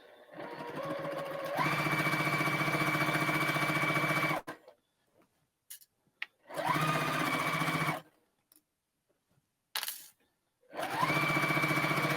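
A sewing machine stitches quilt pieces in three steady runs of fast, whirring, motor-driven stitching, close and clear, with short quiet pauses and small clicks between them.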